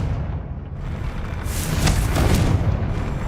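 A Confringo blasting spell explodes in Hogwarts Legacy, a deep booming burst that swells and rumbles for about a second over steady low background ambience, with no talking.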